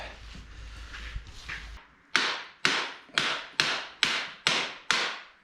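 After some faint rustling, seven sharp taps of a hammer on a bolt ring out in a steady, evenly spaced rhythm, close by, knocking the bolt out during a bicycle restoration.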